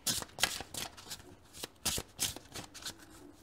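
A deck of oracle cards is shuffled by hand in quick, crisp bursts of riffling and flicking, close and fairly quiet, with short pauses between bursts and no talking.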